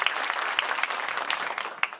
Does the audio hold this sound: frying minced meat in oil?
no